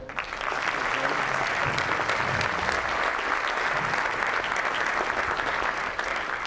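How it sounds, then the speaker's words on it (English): Loud, dense applause fills a hall at a Christmas concert, sustained and even for several seconds as the audience honors the host. "Let's give him a round of applause as well."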